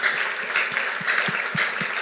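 A church congregation clapping in a steady, sustained burst of applause, with soft rhythmic low thumps beneath the dense patter.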